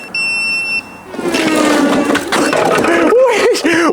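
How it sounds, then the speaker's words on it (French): A steady high electronic beep sounds briefly, then stops as a loud engine-like noise and voices take over. "Pourquoi il bip?"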